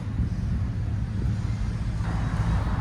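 A Ford F-150 with a 5.4L V8 and Flowmaster Super 10 dual mufflers idles with a deep, steady exhaust rumble, close and fairly loud, with no talking.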